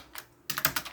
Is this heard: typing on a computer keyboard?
yes